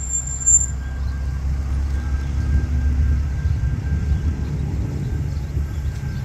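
A Gol Boeing 737 Max airliner going around after a landing attempt with a tailwind, heard as a steady, distant low jet roar that swells slightly and rumbles on without break.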